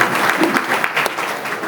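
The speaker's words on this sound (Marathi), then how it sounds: "एकदम जोरात टाळ्या त्यांच्यासाठी" An audience at a birthday blessing gathering gives a burst of loud, sustained applause, many hands clapping densely and close, with a faint voice underneath.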